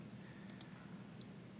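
Mouse clicks selecting a user profile in fitness client-management software, two quick sharp clicks followed by a fainter third, quiet and close over a low steady hum.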